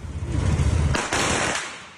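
A sharp firecracker, thrown from a car at a motorcyclist, blasts out over a steady low engine rumble, followed by a second burst and a fading crackle.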